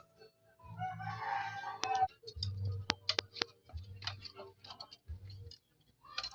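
A crossbred labuyo jungle fowl rooster gives a faint crow a little way off, followed by scattered clicks, taps and low rumbles in a quiet outdoor setting.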